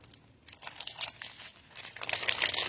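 Paper and cardstock crinkle and rustle up close as craft sheets are handled and pulled out of a pile, in irregular crackling bursts that grow busier toward the end.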